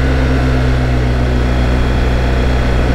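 A motorcycle engine drones steadily while riding a road in the Haute-Sûre area, with a constant loud low hum and wind noise throughout.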